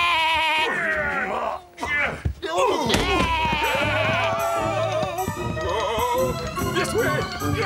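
Cartoon sheep bleats loudly and repeatedly over a busy music-and-effects bed in a children's animated sea adventure, with voices heard in the scene.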